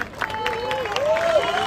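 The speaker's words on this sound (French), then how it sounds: "Voilà qu'on applaudisse très très très très très fort." A crowd at the Ernée French MX1 motocross championship claps and cheers continuously, a full, even wash of applause with a drawn-out voice tone gliding above it.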